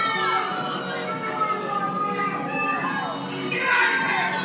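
A wrestling arena crowd at a championship match roars steadily throughout, a dense wash of cheering and shouting voices with excited yells swelling near the end.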